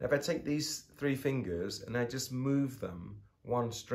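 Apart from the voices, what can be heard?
No everyday noises stand out.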